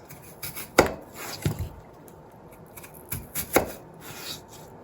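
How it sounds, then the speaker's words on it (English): A knife slicing peeled potatoes into round discs on a board for Sicilian Messinese green beans, heard as a few distinct, moderately close chopping knocks spaced irregularly, with quieter scraping in between. "I am going to peel the potatoes and then cut them into round discs"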